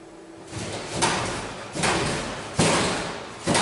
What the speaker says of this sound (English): the hallway door opens and is slammed shut violently